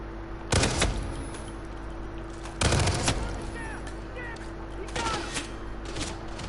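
Heavy gunfire from a big gun in the video game Hitman: three loud broadband bursts of shots a couple of seconds apart, each ringing out briefly over a steady game background hum.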